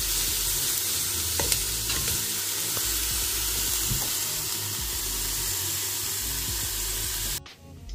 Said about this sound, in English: I'm going to fry this bacon